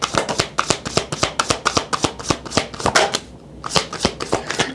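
Tarot cards shuffled by hand during a Scorpio reading, a loud, close riffle of rapid rhythmic flicks that pauses briefly and then resumes, with no speech.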